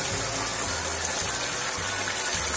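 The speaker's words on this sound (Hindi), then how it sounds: "पानी डाल देंगे चने वाला, जिसमें चने हमने बॉईल किए थे" Water left from boiling chickpeas pours steadily into a cooking pot for chana pulao, a continuous close gushing splash at even loudness with no voices.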